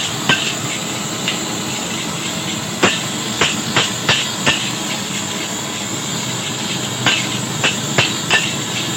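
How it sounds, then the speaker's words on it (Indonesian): Nasi goreng for four portions is stirred fast in a pan over a high stove flame, with a steady roaring hiss and clusters of sharp metallic spatula clacks and scrapes against the pan. "Ini apinya kita besarkan lagi sambil kita aduk secara cepat."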